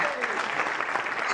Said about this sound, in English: So round of applause for Patrick.